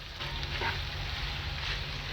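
Snake gourd curry with peanut powder frying in a pan, a steady close hiss of sizzling oil with faint stirring, continuous and alone.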